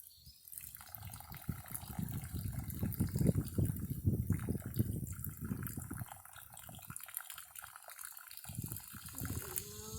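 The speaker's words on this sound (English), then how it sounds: "we use that whole syringe of sample to rinse our filter" A water sample pushed from a syringe through a filter makes a steady, close trickle and hiss of liquid that lasts nearly ten seconds, fairly loud, with no talk.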